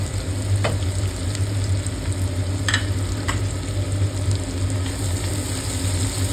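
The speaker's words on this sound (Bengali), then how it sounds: "পেঁয়াজটা এবার একটু ভালো করে আমি লাল লাল করে ভেজে নেব, যাতে পেঁয়াজটা গলে যায়।" Chopped onions frying in a pan for a fish kalia, a constant loud close sizzle with a few sharp crackles and faint stirring clicks throughout.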